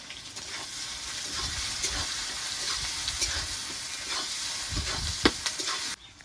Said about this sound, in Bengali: পেঁয়াজটা একটু নেড়ে চেড়ে ভেজে নেব